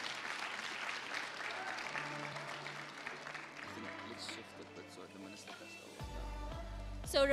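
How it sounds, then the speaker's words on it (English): An audience at the 8th National ICT Summit applauds as guests come on stage, a soft spread of clapping mixed with background music tones. "Can we please give them a round of applause as they come on stage?"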